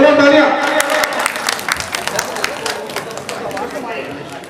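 Audience applause at a religious gathering, dense clapping from a crowd that starts strong and gradually thins out, with chatter and voices mixed underneath.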